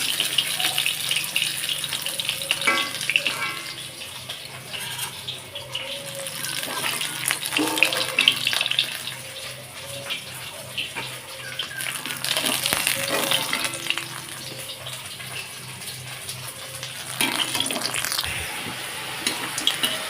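Fish frying in hot oil in a home kitchen, a dense, continuous hiss and crackle that swells and eases, close and fairly loud, while a voice talks at times over it.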